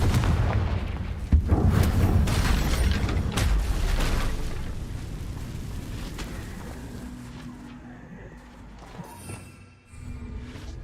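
Confringo fire spell blast in the Hogwarts Legacy video game: a deep booming explosion with a sharp burst at the start that rumbles on and slowly fades, followed by a smaller pop near the end.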